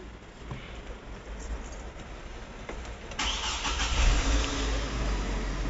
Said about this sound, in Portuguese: Olha lá que bonitão o ronco do motor.